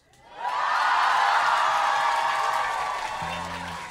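A live concert audience bursts into sustained cheering and applause, a dense roar of claps and whoops that swells quickly and holds steady before slowly easing, with a low musical note creeping in near the end.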